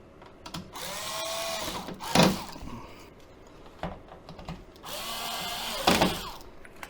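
A power drill drives OEM screws into a BMW 535i E28 Alpina in two close bursts of whirring, each ending with a sharp tightening clunk, separated by quiet pauses.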